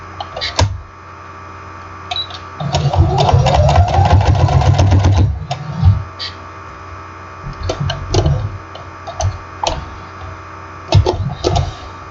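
A sewing machine top-stitches box binding on a quilt, a loud run of rapid mechanical stitching lasting a few seconds, then shorter stop-start bursts and separate clicks and knocks as the fabric is handled.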